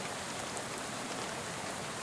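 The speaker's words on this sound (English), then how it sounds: "Oh, it's raining." Steady nighttime rain in the game Shadows over Loathing makes a dense, even hiss that continues without a break, moderately loud and alone.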